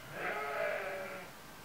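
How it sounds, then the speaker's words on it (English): A single sheep bleats outside a window, a wavering nasal call lasting about a second, faint and somewhat distant with no talking. "Can you guys hear my sheep?"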